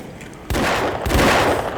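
Matchlock guns in the Bannerlord 1700 mod of the video game fire in loud overlapping volleys, two sharp bursts of gunfire rolling into a sustained crackling fusillade.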